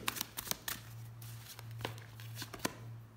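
Tarot cards laid one over another, giving a series of soft, crisp card slaps and brushes, some sharp and some faint, against a steady low hum. No voices.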